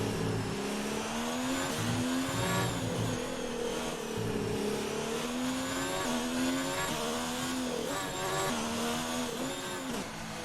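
A Ferrari Formula 1 car in the racing game F1 2019 during a pit stop in Mexico, its engine whining and revving steadily at high pitch with rising and falling tones, loud and continuous with no talk.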